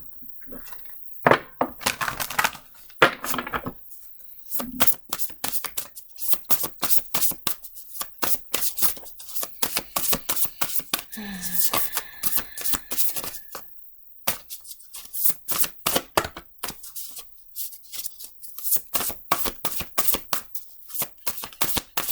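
Tarot cards are shuffled repeatedly up close, crisp riffling bursts and soft taps in an irregular rhythm over near silence.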